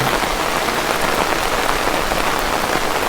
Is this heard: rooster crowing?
no